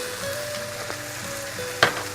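Chicken ragu sizzles quietly in a pan while it is stirred, with a soft steady fry. A spoon gives a few light scrapes and one sharp clack near the end.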